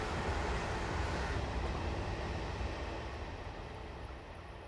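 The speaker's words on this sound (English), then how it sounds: "we'll stand on the platform like I used to do and watch the train go through." In Train Simulator, a train runs through a station on the Hope Valley line: a faint, broad rushing rumble that slowly eases off as it passes the platform.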